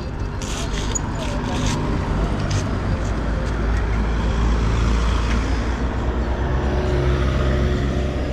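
A car passes on a road near a construction bypass, heard as a broad continuous roar of traffic noise with wind rumble from a moving bicycle, steady and fairly loud throughout, with voices talking over it.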